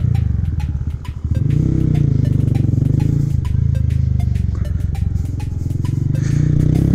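A Honda Grom motorcycle ridden on the road, its small engine buzzing loud and close with rapid repeated pops and shifts in pitch as it accelerates, wind and road clatter underneath.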